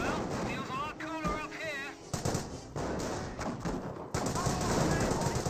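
Dense gunfire and heavy artillery-like thuds pound a Grenadier squad in the Company of Heroes 1 video game, with continuous loud battle noise and overlapping game effects.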